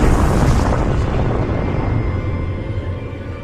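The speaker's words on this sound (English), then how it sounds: "the universe and everything in it exploded into existence from a" A deep, roaring explosion effect depicting the Big Bang booms loudly at the start, then rumbles and slowly fades over a few seconds.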